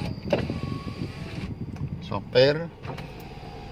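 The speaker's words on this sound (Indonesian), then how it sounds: "ini untuk power windowsnya kita coba" Power windows on a 2001 Honda Civic automatic whir briefly as they are run up and down inside the car, a short motor hum heard under ongoing talk.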